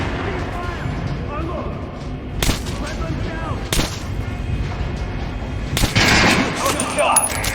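Gunshots fired at target dummies in Metro: Last Light Redux, a few sharp loud cracks spaced seconds apart over a steady murmur of background talk and ambience, ending in a denser burst.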